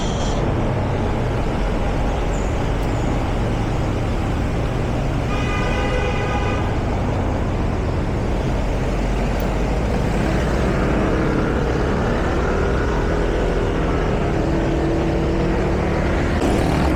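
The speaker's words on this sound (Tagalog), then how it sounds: "Traffic na Mabini Bridge at 6:30 a.m." Early-morning road traffic on Mabini Bridge, a steady loud engine and road roar from passing vehicles, with a brief horn toot around the middle and a vehicle drone building toward the end.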